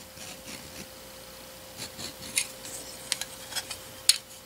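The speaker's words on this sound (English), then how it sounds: "I'm taking a little shaving off" A hand tool shaves a thin sliver off an edge on a small steam engine part in a quiet workshop. Soft, faint scraping and rubbing strokes come in an irregular series, with a few light clicks, over a steady background hum.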